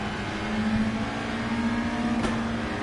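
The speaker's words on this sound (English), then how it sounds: "Revving." A Mazda Miata race car at Road Atlanta holds a steady, buzzing high-rpm engine note, heard from inside the car, continuous and fairly quiet with no voices.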